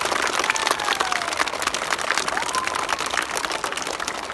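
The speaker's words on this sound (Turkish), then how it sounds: "Çocuklar bir Zülfü Bey'e de alkış alalım" Schoolchildren at an elementary school in Elazığ break into steady, dense applause, a continuous rush of many small hands clapping together, filling the room evenly from start to finish.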